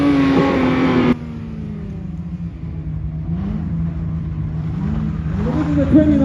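A black 2019 Porsche 991.2 sports car drives past on the Brands Hatch circuit, its engine note rising and falling as it passes, loud at first then fading, with a crowd and commentator talking over it.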